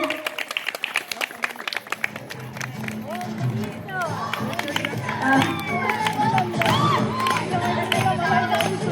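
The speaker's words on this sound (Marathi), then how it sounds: "जोरदार टाळ्या होऊ दे." A crowd claps and cheers, with scattered clapping at first swelling into loud, continuous applause mixed with shouting and excited voices.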